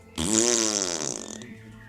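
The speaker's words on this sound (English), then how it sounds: "They make fart noises and blow raspberries at you guys when you try to talk to them." One loud, buzzing fart noise, likely made by mouth, starts abruptly, holds for about a second and then sputters out in a fluttering tail. It is close and isolated, with no talk.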